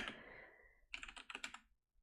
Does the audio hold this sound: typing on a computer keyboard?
yes